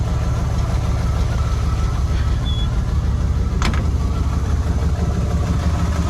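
A car engine idles steadily up close right after a Quadrajet carburetor rebuild, a continuous even rumble with one short sharp click partway through.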